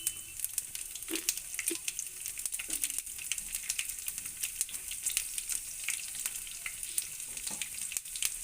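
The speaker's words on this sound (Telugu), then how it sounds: "ఇందులోకి కొద్దిగా జీలకర్ర, కరివేపాకు, ఎండుమిర్చి, పచ్చిమిర్చి కూడా వేసుకొని బాగా వేగనివ్వాలి." Urad dal, cumin seeds, curry leaves and dried and green chillies fry in hot oil with a steady, close high sizzle, broken by a few sharp crackles and stirring clinks.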